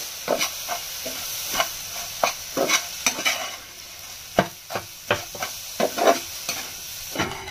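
Sevai cooked with condensed milk in a hot pan is stirred with a utensil, producing repeated scraping knocks over a soft continuous sizzle, close up.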